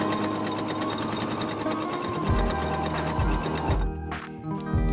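A sewing machine runs steadily through a long quilt seam, a continuous close mechanical hum with rapid stitching rhythm, broken by a few low thumps near the end as it slows.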